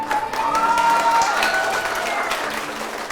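Sustained applause from an audience honoring Ducks of Year 4 award winner Abraham at a 2020 achievement celebration, steady clapping with a few cheers throughout.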